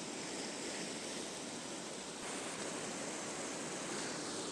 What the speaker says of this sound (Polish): W dole szumi sobie morze.